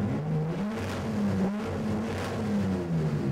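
A motorsport car engine holds a steady, loud rev with slight wavering pitch, droning continuously close by with no voices.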